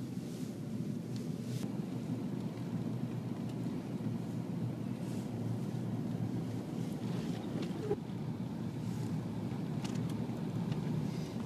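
Blizzard wind blows as a steady, unbroken low roar with gusty buffeting against the microphone, constant and fairly loud throughout, with no talking.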